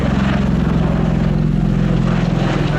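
Loud, steady drone of a Bell Boeing CV-22B Osprey tiltrotor as its rotors tilt forward into aircraft mode, a continuous low rotor and engine thrum with no voices.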